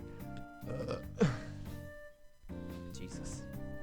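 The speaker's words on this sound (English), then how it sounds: "Oh my god, another burp." A burp from a character in the Nekojishi game pops out briefly amid soft background game music, short and fairly close.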